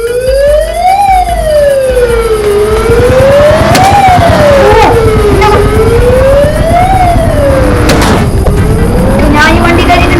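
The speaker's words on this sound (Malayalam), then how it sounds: "പോലീസ് വണ്ടി." Police vehicle siren in the video game Dude Theft Wars, a loud rising and falling wail sweeping repeatedly over engine rumble and a few sharp clanks, very close and dominant throughout.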